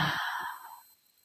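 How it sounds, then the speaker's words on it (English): One soft exhale, a close breathy sigh that fades out within a second. "and breathing out"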